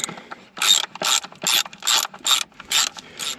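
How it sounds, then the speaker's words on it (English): A bolt being loosened with a ratchet wrench during a track repair on tracked equipment, eight quick rhythmic bursts of clicking pawl, close and clear with no talking. "I don't got to take both of these bolts out, just one, because the plate will swivel downward."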